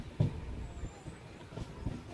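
A train pulling into Khanapur railway station: low rumble and rolling wheel noise with a few soft thumps of cars over the rails, steady and close, with no voices.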